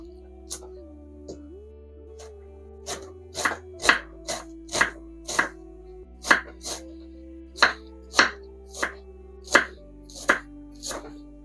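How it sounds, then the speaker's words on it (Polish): A knife slices an onion into half rings on a cutting board for homemade pizza: about fifteen crisp, close chops, sparse at first and then in a quicker, uneven rhythm, over a faint steady hum. "Cebulę kroję takie w pół talarki."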